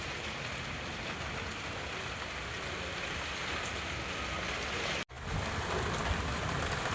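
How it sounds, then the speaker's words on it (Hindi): Heavy rain pours down on a rooftop, a loud, steady hiss of dense drops over seven seconds, broken by a brief cut just past the five-second mark. "इतनी ज़ोर से बारिश हो रही है।"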